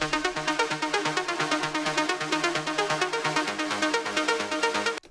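A synth line plays in a remix of a song, a dense, steady pulsing loop of bright stacked tones at an even rhythm, loud and continuous with no talk, cutting off abruptly at the end.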